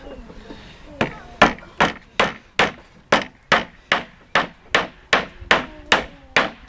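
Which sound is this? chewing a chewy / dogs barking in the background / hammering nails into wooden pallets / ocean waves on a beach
hammering nails into wooden pallets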